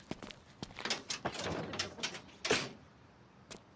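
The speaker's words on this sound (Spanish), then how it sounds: "Para que cierre la puerta." A door swinging shut in a home, with a series of knocks and clunks of varying loudness close by and a sharper bang near the end, no speech over it.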